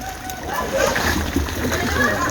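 River water splashing and sloshing nearby in Gabon, a continuous wet churning that stays moderately loud throughout with no clear talking.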